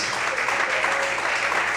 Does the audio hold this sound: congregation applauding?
yes